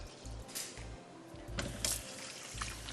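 Soaked rice for a vegetable biryani is rinsed in a kitchen: a soft, steady wash of pouring and splashing water runs throughout, fairly faint with a few brighter splashes.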